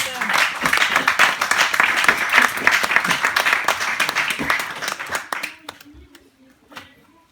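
A church congregation at a Sunday service applauds with dense, rhythmic clapping and some voices mixed in, then the clapping thins out and fades to near quiet.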